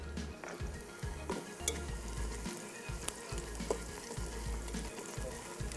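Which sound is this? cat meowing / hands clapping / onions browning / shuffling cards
onions browning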